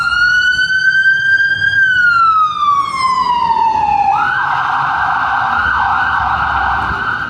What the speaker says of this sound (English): With a screeching loud ambulance.